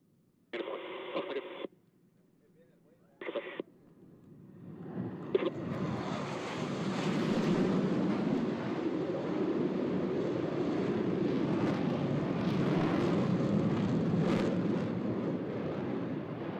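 Blue Angels jet aircraft at a practice air show build from a distant rumble into a loud, sustained roar as they pass overhead, with brief announcer talk over speakers at the start.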